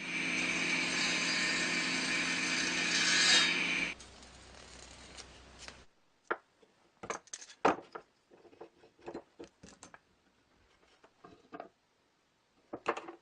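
A table saw cuts down metal parts for a plasma cutting pantograph bracket: a loud, steady broadband whine runs for about four seconds, then drops and winds down, followed by scattered clanks and handling knocks.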